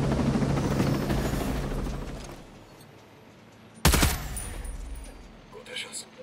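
A loud burst of video game gunfire cuts through a fading helicopter-like drone, followed by a few fainter shots in the distance.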